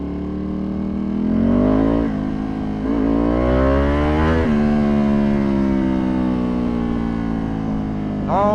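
A tuned Ducati Panigale V2 motorcycle engine drones loudly and steadily on a street ride, pitch rising and dropping through gear changes with a sharp rev near the end.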